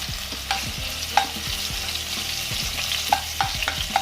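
Potato pieces stir-fry in hot oil for poha, with a steady close sizzle and repeated scrapes and clinks of a spoon stirring in the pan, and no talk.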